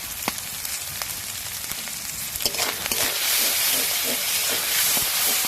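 Turmeric powder, salt, slit green chilies and cashews fry in a pan for a dhaba-style paneer butter masala, a steady broadband sizzle that grows louder and hissier partway through, with faint clinks and no talking.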